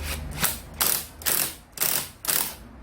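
A ratchet turns a special puller to draw the generator magnet off a Honda Ape 100 motorcycle engine, five quick rhythmic clicking strokes, close and clear with no talk.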